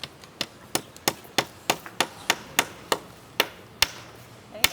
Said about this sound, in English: So we're going to hammer it in halfway, and then we're going to hammer it down or up